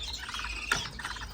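Young finches in a breeding cage give faint, rapid high chirps in short bursts, quiet and close, with one slightly sharper peep in the middle.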